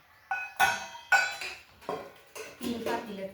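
Pieces from a 30-piece set of metal kitchen utensils, including pots with lids, glasses and serving spoons, are handled and set down, making about six sharp clanks and clinks at close range, with no talking.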